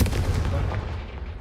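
Confringo blasting spell in Hogwarts Legacy, a loud, sudden explosive burst with a rumbling, crackling tail that fades over a second and a half.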